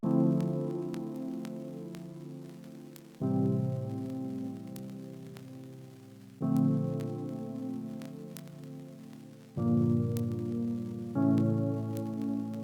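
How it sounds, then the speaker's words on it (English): A smooth electric piano plays a slow progression of five sustained chords, each ringing out softly before the next, with no other sounds. "So we got the R&B E piano"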